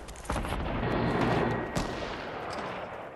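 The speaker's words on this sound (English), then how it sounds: "I hear shooting" Video game gunfire in Fortnite: a sharp shot, then a sustained, dense burst of rapid firing swelling and fading over a few seconds, with another distinct report partway through, moderately distant.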